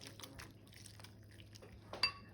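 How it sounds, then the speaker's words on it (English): Gooey mac and cheese sauce being stirred in a pot, faint soft sticky squelches and light utensil scrapes with a few clinks, ending in a sharper metallic tap. "still stirring my gooey cheese"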